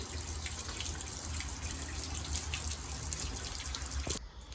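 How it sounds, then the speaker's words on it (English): Tap water running steadily in a Sea-Doo Speedster boat bay, coming through ice cold, a continuous broadband rush that cuts off abruptly near the end. "I was just checking, had the water running, and this is ice cold."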